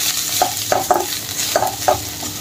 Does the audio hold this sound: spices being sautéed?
yes